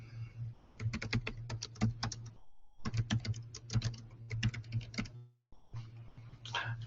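Rapid keystrokes on a computer keyboard as a phrase is typed into a translation search box, coming in two dense bursts with a short pause between them and a few more clicks at the end, close and clear with no talking.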